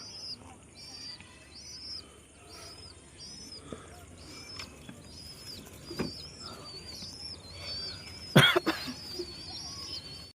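Pigeons at a village loft with a few birds flown into the sky, giving soft repeated cooing calls, scattered chirps and a sudden burst of flapping wings near the end, all fairly faint.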